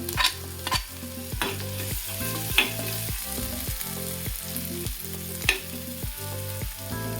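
A small piece of ginger and about four garlic cloves sizzle in a hot pan for an egg curry, with steady frying crackle under repeated, rhythmic stirring scrapes.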